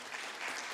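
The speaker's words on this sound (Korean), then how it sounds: "다시 한번 큰 박수 부탁드리겠습니다" Audience applause at an international forum on sustainable tourism in Seoul, a brief, even patter of clapping from a seated crowd, moderately quiet and heard alone.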